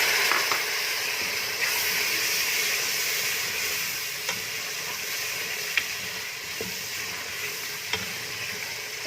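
Masala paste fries in a pan with a splash of added water while fried chana dal is being made. It gives a steady, hissing sizzle throughout, close by, with a few faint clicks and no voices.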